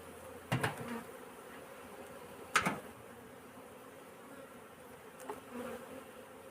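A honeybee colony buzzes in an open hive during a varroa treatment inspection, a faint steady hum broken by a few sharp knocks and clicks from the frames being handled.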